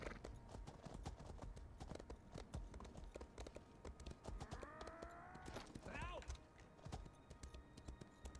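Horse hooves clip-clopping at a steady riding pace in the video game Elder Scrolls Online, continuous and fairly close for the whole stretch, with a brief tonal rising call partway through.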